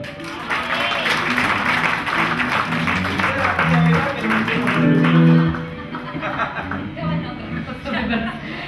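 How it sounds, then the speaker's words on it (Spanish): Audience clapping at a club dance show with a live cover band, a busy crowd patter mixed with chatter, chuckles and a voice carrying over it, swelling mid-way before easing off. "Un fuerte aplauso."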